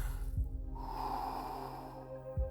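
Close, deep breathing during a guided breathing exercise: a long, airy breath flows between two sharp, snort-like nasal intakes near the beginning and end, with no talking.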